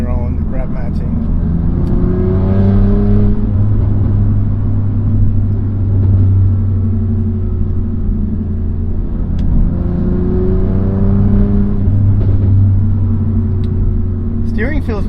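A BMW M2 Competition with a manual gearbox drives along, its engine a steady low droning rumble that rises and falls with revs, heard from inside the cabin, with a voice speaking over it.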